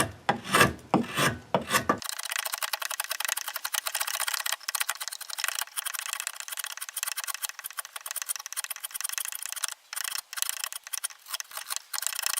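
A carving knife cuts rapidly through green wood while hollowing the bowl of a small pocket spoon, making a dense, continuous rasping scrape of close, quick strokes with brief pauses near the end.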